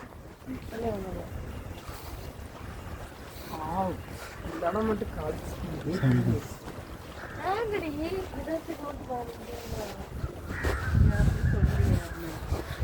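A crow caws in several harsh, repeated calls at moderate distance over an outdoor background. People talk almost continuously over and around the cawing.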